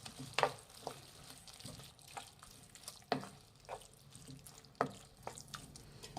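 Fried okra stirred into bhindi masala in a pan, with intermittent scraping and tapping of a spoon against the pan over a faint sizzle, close and quiet, no voices.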